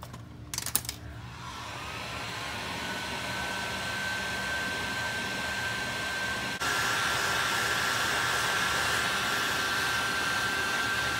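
Heat gun shrinking tubing over the fuel pump wiring on an Opel GT, a steady blowing whine that follows a few quick clicks, close and continuous, stepping up slightly in loudness partway through.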